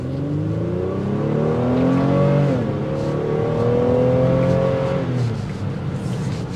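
A 2023 Honda Pilot SUV engine revs up hard through the gears in sport mode, its pitch climbing, dropping at a shift, then climbing again, loud and close.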